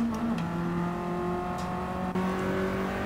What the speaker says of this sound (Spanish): El escape le cambia el sonido completamente